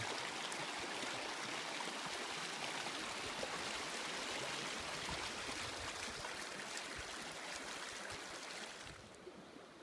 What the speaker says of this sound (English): just listen to the river